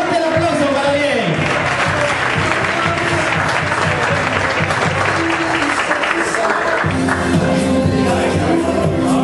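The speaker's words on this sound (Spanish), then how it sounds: "fuerte el aplauso para Ariel" Sustained audience applause and crowd noise at a contest event in Punta del Este, loud and continuous for the full stretch, with an announcer's voice faintly mixed in beneath the clapping.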